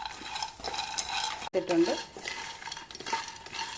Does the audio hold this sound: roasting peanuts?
yes